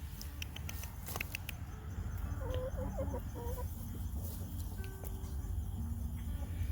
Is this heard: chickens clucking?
yes